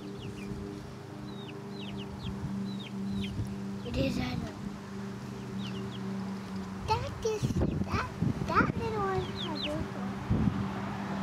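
Backyard chickens cluck in short, scattered bursts while small birds chirp and someone talks intermittently, all over a steady low background hum.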